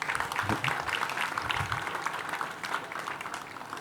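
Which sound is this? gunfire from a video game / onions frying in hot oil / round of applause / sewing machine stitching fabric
round of applause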